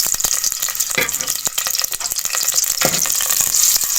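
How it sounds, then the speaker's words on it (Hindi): Chopped onion sizzles steadily in hot oil in a pan, a continuous bright frying hiss with occasional louder spatters and stirring scrapes, close and alone. "अब प्याज को मैं ब्राउन कर लूँगी।"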